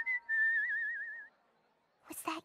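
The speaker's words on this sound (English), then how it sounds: "I love whistling while I work." A cartoon pony whistles a single wavering, warbling tune for about a second, clear and close, followed by a short spoken reply.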